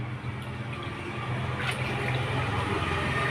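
Water is poured over a child during a bath, making a steady, continuous rushing splash at moderate volume with no voices.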